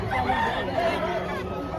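Chickens at a poultry market cluck and crow in short, overlapping calls that run through mixed crowd chatter and nearby voices.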